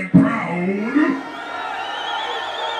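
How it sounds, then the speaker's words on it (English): A crowd at a nighttime dancehall concert roaring and cheering, with a man yelling loudly over it before the crowd noise carries on alone. "My crowd, I want you to give me a salute for yourself loud and proud."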